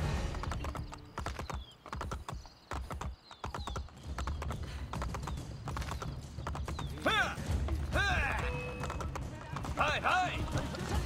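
Rapid hoofbeats clatter steadily throughout, with a horse whinnying a few times in the second half amid busy game sounds in Assassin's Creed Brotherhood.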